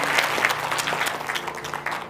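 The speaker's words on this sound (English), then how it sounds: "Please help me give a big round of applause to our amazing speaker, Dr. Sandrine." An audience claps for a keynote speaker at an event honoring an engineering founder and CEO, a dense, close burst of applause that holds steady before tapering slightly.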